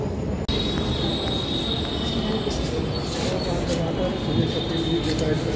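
Delhi Metro Yellow Line train at Azadpur station, a steady loud rumble of the carriage with a high-pitched squeal and rattling throughout, close by and continuous.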